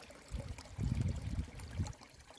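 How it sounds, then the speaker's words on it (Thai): Mountain water stream in Sweden flowing down from the hills, a low, rushing gurgle that swells in the middle and then eases, close by with no talking. "อันนี้น้ำไหลลงมาจากภูเขานะคะ"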